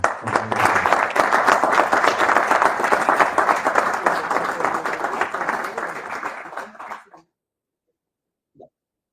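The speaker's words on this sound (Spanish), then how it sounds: "Un fuerte aplauso." An audience gives sustained applause for about seven seconds, dense and steady, before it fades out, leaving near silence broken by a single soft knock.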